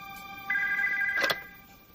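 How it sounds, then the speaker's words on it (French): A telephone rings once in a quiet bedroom at night, a single steady electronic ring tone of about a second, clear and close with no talk. "Nous nous mettions au lit quand le téléphone a sonné."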